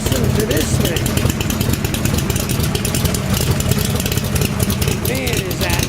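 A 427W Cobra kit car engine idles steadily up close, a dense low rumble running the whole time with loud outdoor noise over it and people talking now and then.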